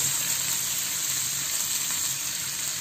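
Prawns frying in a pan with zucchini curry preparation, giving a steady, dense sizzle that stays loud and even throughout with no talking.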